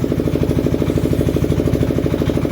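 A Lister diesel engine compressor running steadily up close, a loud rhythmic chugging throb with fast regular pulses that holds constant throughout.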